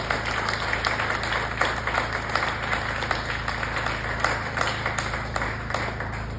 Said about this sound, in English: So let us have a round of applause for all mothers.